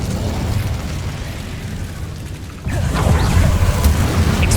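Incendio fire spell cast in Hogwarts Legacy, a rumbling burst of flame with crackling and a whooshing surge that swells partway through, heard alone over steady ambient noise.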